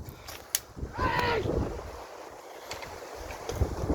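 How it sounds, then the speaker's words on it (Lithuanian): Wind gusts across an outdoor site where people are building a base and fence, a broad rushing buffet on the microphone with brief thumps and a short voice partway through. "Vėjas čia."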